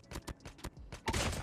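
Several sharp bursts of Damascus-camo AK117 rifle fire in Call of Duty Mobile, single shots spaced through the first second, then a louder sustained volley at the end.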